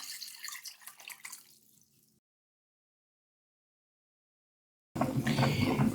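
About a litre of water poured into a large soup pot holding onion, carrot, potatoes and chicken: a splashing gush for two seconds that fades, near silence, then a louder burst of running water.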